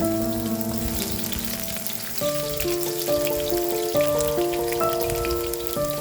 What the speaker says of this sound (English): Heat 2 tablespoons of canola oil in a pan. Sauté 8 cloves of sliced garlic.